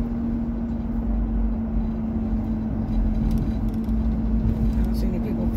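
Pickup truck engine cruising along, a steady low hum with a constant drone, heard from inside under occasional talk.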